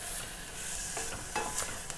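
Vegetables for a beef lasagne sauté in a hot pan, a steady close sizzle with a few scraping stir sounds, no talking.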